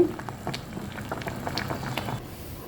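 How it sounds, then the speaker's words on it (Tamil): Water is drained off boiled sweet potatoes, a steady close bubbling, pattering trickle with small splashes that runs throughout and thins slightly near the end, with no voices. "இப்போ தண்ணியை வடிச்சுக்கிறேன்"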